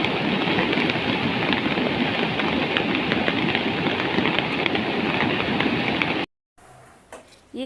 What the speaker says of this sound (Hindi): तो वहाँ पे ये पानी जो वर्षा का पानी है ये बह रहा है।